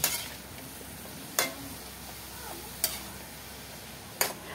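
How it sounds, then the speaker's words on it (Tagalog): Green papaya cooking in coconut milk with dried anchovies and moringa, stirred in a pot: a soft, quiet simmer broken by three or four evenly spaced spoon scrapes and clicks. "At haluing mabuti."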